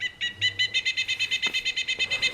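A toy bird, a new-design pileated woodpecker model from a Wild Republic plush collection, plays a recorded call: a fast series of about twenty loud, shrill, even-spaced piping notes, close and clear with no talk.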